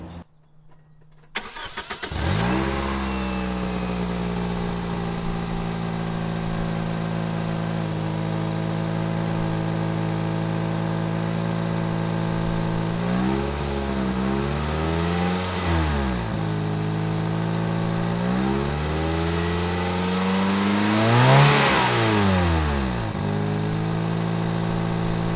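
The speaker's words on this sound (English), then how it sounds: "record the sound that the engine makes" A Toyota Corolla engine cranks and starts, then idles loudly up close before being revved a few times, the pitch rising and falling in distinct swells.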